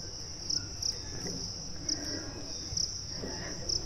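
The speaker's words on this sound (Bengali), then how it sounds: "শুনতে পাচ্ছেন ঝিঝি পোকার আওয়াজ।" Crickets chirp at dawn beside a forest trail on Parashnath hill in Jharkhand, a constant high shrill trill with a few louder pulsing bursts, steady and moderately close, with no talking.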